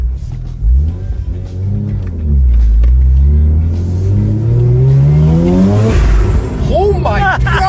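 A rotary-swapped Subaru BRZ accelerates hard with a loud, buzzy engine note that rises through the gears with quick shifts and climbing pitch, and tires chirp near the end. Voices are heard faintly over the engine.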